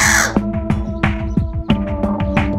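A channel-billed cuckoo, a large migratory bird from Papua New Guinea, gives a series of loud, harsh, raucous calls in a rough repeating rhythm close by.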